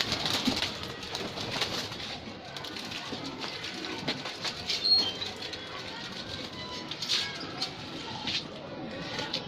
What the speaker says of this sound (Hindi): प्योर मद्रासी कबूतर है ये भाई